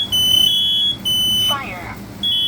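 A smoke alarm sounds during a system test, giving loud, steady high-pitched electronic tones in long bursts with short breaks, close and clear.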